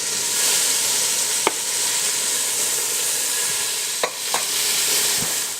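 Beef pieces sear in a hot oiled pan for a few minutes per side, a dense, steady hiss and sizzle, close and loud, with a few brief clicks and taps of utensils.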